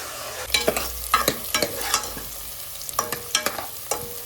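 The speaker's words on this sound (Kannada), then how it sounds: "ಸೊ ಹಸಿ ವಾಸನೆ ಹೋಗೋವರೆಗೂ ಅವರೆಕಾಳು ಚೆನ್ನಾಗಿ ಎಣ್ಣೆಯಲ್ಲಿ ಫ್ರೈ ಆಗಬೇಕು." Field beans fry in oil in a pan for a vegetarian sambar-style curry, with a soft sizzle under repeated close scraping strokes of a spoon stirring them, no voices.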